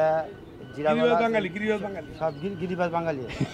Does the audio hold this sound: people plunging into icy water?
no